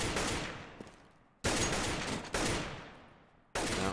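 Four bursts of AK rifle fire in Counter-Strike, each a loud, sharp, rapid volley that rings and decays before the next one cuts in, with no voices over them.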